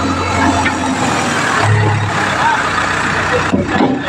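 A JCB excavator's diesel engine runs steadily on a road near a fallen banyan tree, a continuous low rumble held close throughout with slight changes near the end.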